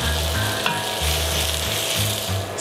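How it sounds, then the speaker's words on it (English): Tomatoes frying in a pan for butter chicken give a steady, close sizzle throughout, with a low pulsing hum underneath and a brief clatter partway through. "Now I'm just gonna add my tomatoes to fry up here"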